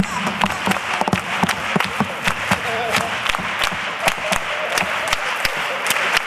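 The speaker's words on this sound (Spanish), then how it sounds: "¿Habéis aplaudido porque esto es la parodia libre?" An audience at a Carnaval Romano carnival quartet semifinal applauds steadily in a dense, loud burst of clapping that fills the whole stretch, with crowd voices mixed in.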